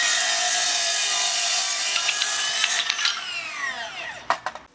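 Makita 40V 260mm cordless circular saw cutting through wood: a loud, steady high-pitched whine runs for about three seconds, then winds down as the blade slows, with a few sharp clicks and knocks at the end.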